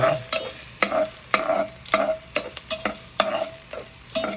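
Ginger sautéing in oil for squid adobo, a steady sizzle broken by rhythmic scraping strokes of a spatula against the pan, about one every half second, close up with no voices.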